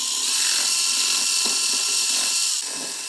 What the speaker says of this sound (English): Probably the drill is the best thing.